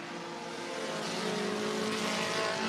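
Race cars roaring around the Cottage Grove Speedway oval in Oregon during a Freedom Cup race, a loud sustained engine drone with layered harmonic whine, no voices.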